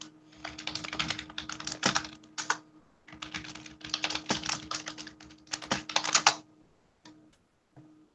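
Loud computer keyboard typing up close in quick bursts of clacking keys, separated by short pauses and tapering to a few isolated taps at the end.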